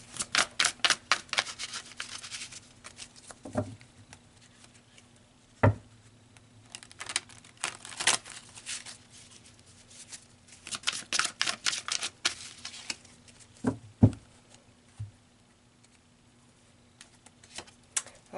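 Tarot cards are shuffled and pulled, giving irregular bursts of crisp snapping and riffling clicks separated by quiet pauses, close and fairly soft, with no talking.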